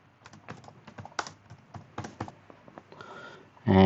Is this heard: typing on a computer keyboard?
yes